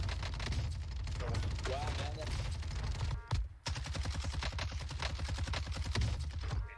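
Rapid bursts of automatic gunfire in an online shooter game, played by a suspected cheater shooting through walls and locking onto heads; dense, loud repeated shots run nearly throughout with a brief pause, mixed with game effects.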